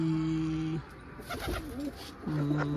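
Racing pigeons coo in low, steady droning calls, a pause in the middle, then the cooing resumes close by and fairly loud.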